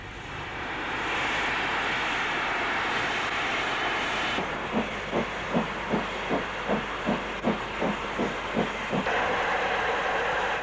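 A Thompson B1 steam locomotive, number 61122, built in 1942, hissing steadily before working hard with a run of sharp, evenly spaced exhaust beats that quicken slightly. It sounds close and fairly loud, and there is no talking.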